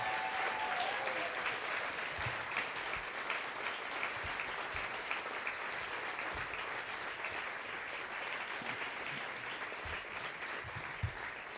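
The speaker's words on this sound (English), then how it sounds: "give a really very loud and prolonged applause for the 3 honorees" Prolonged audience applause for three honorees at an awards livestream, an even, continuous wash of clapping that stays fairly quiet and distant throughout.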